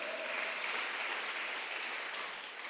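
A church congregation claps together in a steady, even wash of applause during a Spanish-language service, continuous and moderately distant before easing off slightly at the end.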